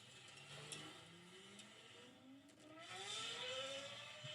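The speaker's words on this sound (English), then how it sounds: "This is the best sounding engine I have ever heard" A hypercar with triple exhaust pipes revs through rising, climbing engine notes, fairly faint and distant, with no talking over it.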